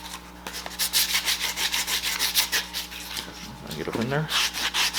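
Repeated rhythmic rubbing strokes scrape along a foam prop axe blade stiffened with fiberglass as it is sharpened by hand, steady and close, with a brief spoken remark near the end.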